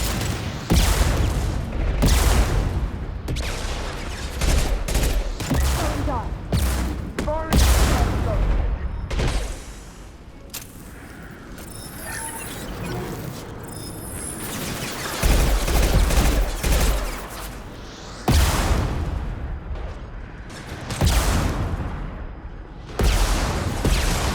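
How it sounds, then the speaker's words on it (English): Impact shot weapon fire from the Mass Effect 2 Legendary Edition video game: dense, loud volleys of gunshots and booms rattle almost continuously, with a brief quieter lull midway before the firing resumes, under occasional voices. "Firing an impact shot."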